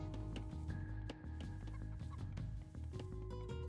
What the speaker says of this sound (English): The chickens were in the way